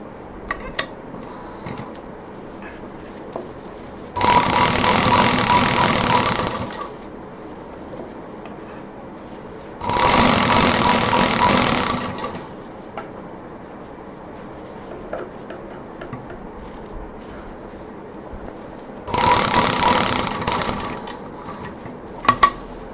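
A sewing machine stitching fabric for a homemade college bag, three separate bursts of fast, steady close-range whirring and clatter, each lasting about two to three seconds, with quiet handling noises between.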